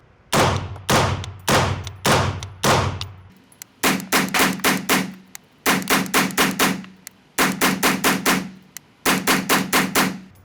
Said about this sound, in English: Let's go ahead and throw our 30 rounds downrange on this one.